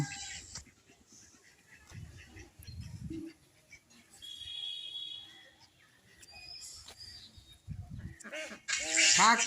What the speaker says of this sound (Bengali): তিনটে মেয়ে হাঁস ওইটা ছেলে হাঁস